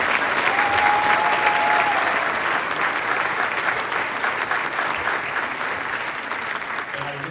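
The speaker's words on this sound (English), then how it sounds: "give the choir another big round of applause" An audience gives a choir a sustained round of applause at the Columbiana County Honors Band and Choir concert at Salem High School. The dense, steady clapping fills the hall at an even level throughout.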